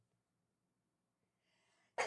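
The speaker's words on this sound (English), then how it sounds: "I have to sneeze." A single loud sneeze bursts out suddenly at the end after a brief, quiet in-breath. The surrounding room is otherwise nearly silent.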